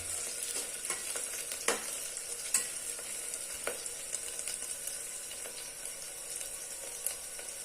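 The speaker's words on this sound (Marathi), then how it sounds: "कसा ब्राऊन कलर आपल्याला या कांद्याला येऊन द्यायचा बघा" Onions frying until brown for mutton biryani, a steady, soft sizzle with occasional stirring scrapes and clicks close by, no talk over it.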